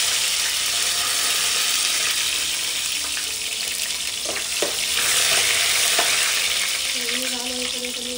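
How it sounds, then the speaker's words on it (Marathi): Curry leaves, bay leaf and garlic hiss and sizzle in hot oil for a tempering, a dense continuous frying crackle close by, with faint clinks of stirring mixed in. "कढीपत्ता टाकते जरा, फोडणी लाल होते."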